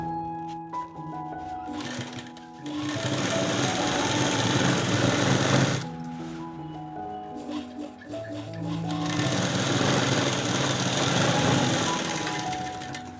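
Sewing machine stitching a chudidar pant, two long stretches of fast steady mechanical whirring and needle chatter separated by a short stop, with brief quieter moments at the start, close and loud.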